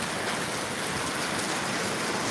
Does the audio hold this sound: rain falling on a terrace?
yes